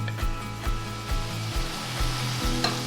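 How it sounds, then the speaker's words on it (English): Onions sauté in butter and olive oil with a steady close sizzle, broken every half second or so by brief scraping stirs from a utensil against the pan. "I added the onions, and I'm going to let them saute for a little bit"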